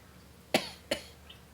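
Two short, soft coughs close by, a fraction of a second apart, in an otherwise quiet room.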